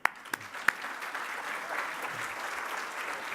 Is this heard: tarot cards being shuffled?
no